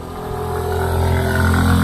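A Yamaha Mio Gear scooter's engine revs with a steady droning hum that climbs gradually in pitch and loudness, close by and with no talking.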